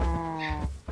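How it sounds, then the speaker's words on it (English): A cow in Minecraft gives one short, loud, close moo with a steady low tone, and nothing else is heard. "Here, cow."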